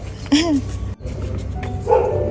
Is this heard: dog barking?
yes